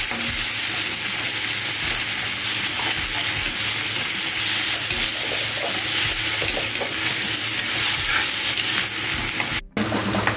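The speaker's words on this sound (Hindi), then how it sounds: "तो यहाँ पर मैंने प्याज गोल्डन ब्राउन कर ली है" Sliced onions sizzling in hot oil with cumin in a pan, a steady dense frying hiss with scraping stirs of a spoon throughout, close and continuous, cut by a brief pause near the end.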